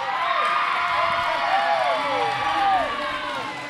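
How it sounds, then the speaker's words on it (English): A hometown crowd cheers and shouts at a cornhole tournament during a timed jam, with a loud, steady roar of many voices and rising whoops throughout. "I'm purposefully not saying anything when the crowd is cheering because you can really hear them."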